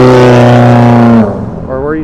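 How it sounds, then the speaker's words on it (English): Loud car with an aftermarket fart-can exhaust roaring past close by on a downtown Toronto street, a strong droning engine note that cuts off abruptly and fades as it passes, with traffic noise behind. "With its deluxe fart can exhaust system."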